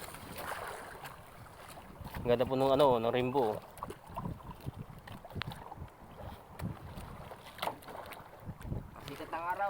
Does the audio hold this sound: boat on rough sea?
yes